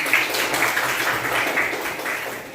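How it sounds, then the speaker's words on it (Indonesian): A classroom of Indonesian eighth-grade students applauds a classmate, a dense, steady wash of many hands clapping together at moderate loudness for a couple of seconds, with no voices over it. "Boleh tepuk tangan untuk Munif."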